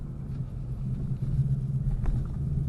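A car engine idling with a low, steady rumble, close and fairly loud, with a few faint knocks and no talk.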